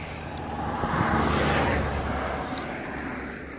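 A car passes along a quiet rural road in the countryside, its broad tyre-and-engine rush swelling to a peak and slowly fading, heard from the roadside at moderate distance with no talking.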